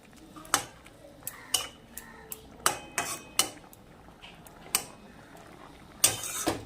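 A spoon stirs mustard paste with broth in a bowl, clinking sharply and unevenly against the side about a dozen times over quiet background noise.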